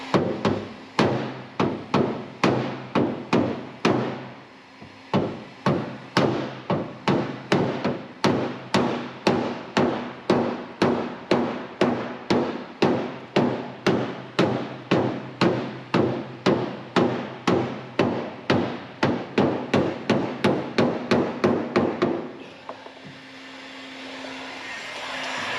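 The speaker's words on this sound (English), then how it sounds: "when I'm hitting this with a hammer" Hammer tapping steadily on a metal panel, a long run of sharp, evenly spaced metallic blows close by, about two per second, that stops near the end, leaving a low hum.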